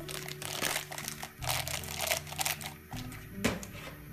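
A polythene bag crinkles up close as its corner is pushed into a mug while preparing jalebi batter, giving dense crackling rustles in irregular bursts with a sharp crackle near the end.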